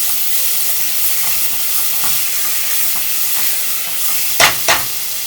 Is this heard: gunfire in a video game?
no